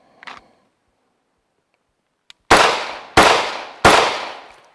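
Three fast one-handed pistol shots ring out in quick succession, loud and sharp, each with a short decaying echo, after a faint click of the draw.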